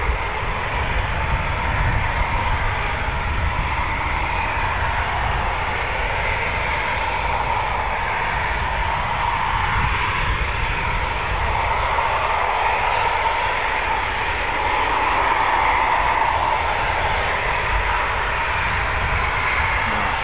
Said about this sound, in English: So, two typhoons in, two typhoons coming in.